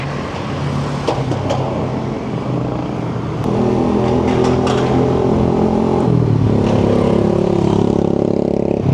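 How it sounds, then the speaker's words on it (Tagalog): The steady, low motor hum of a Kawasaki E-1 electric motorcycle runs continuously alongside rushing wind and road noise, with the pitch stepping up slightly partway through. "narinig yung motor niya na parang mahinang tunog ng motor"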